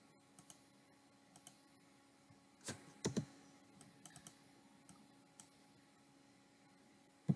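An AutoCAD command is entered on a computer keyboard: a handful of faint, scattered keystrokes with a slightly louder cluster midway and a sharper click at the end, in a quiet room.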